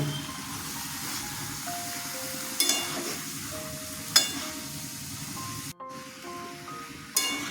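Young jackfruit pieces tumble into hot oil with fried spices, setting off a steady sizzle and hiss, with clinks of a utensil against the pan and a few sharper splashes as they land.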